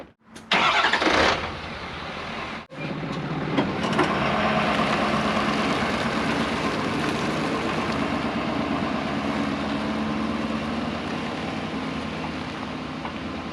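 A truck stuck in the mud on a bamboo removal site starts up, then its engine roars steadily as it revs hard with the wheels spinning, loud and close for over ten seconds.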